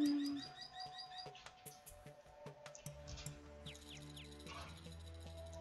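Quick, high bird chirps and tweets in the game Starbound, repeated in short bursts over soft ticking and a low steady hum.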